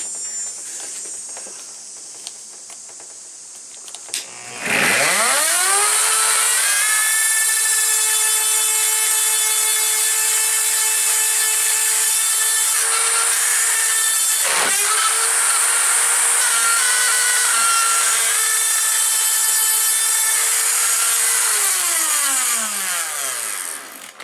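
A power saw biting into plywood, a loud close whine that spins up, holds for about twenty seconds with a brief dip partway, then winds down; no voices.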